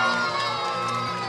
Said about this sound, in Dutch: Mag ik een groot applaus voor juf Griet?